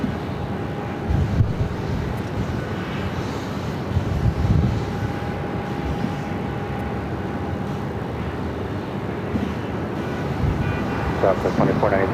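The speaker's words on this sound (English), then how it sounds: "The Delta A330 was coming in from Detroit, Michigan, flight 1070, a 21-year-old A330-300" A 21-year-old Delta Airbus A330-300 jet arriving at Phoenix airport, a steady distant engine roar mixed with wind noise and a continuous hum.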